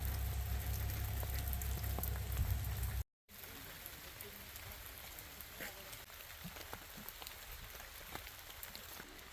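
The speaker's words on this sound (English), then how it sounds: "Why is there so much rain in the rainforest?" Rain falls steadily in a wet coastal rainforest, a dense hiss of drops pattering on surfaces, loud at first and then softer and more spread out after a brief gap, with no voices over it.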